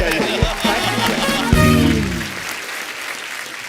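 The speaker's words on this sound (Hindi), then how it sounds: "जोरदार तालियां" On the TV comedy program The Kapil Sharma Show, the studio audience applauds beneath a loud musical sting and voices, the clapping wash continuing steadily as the music rings out.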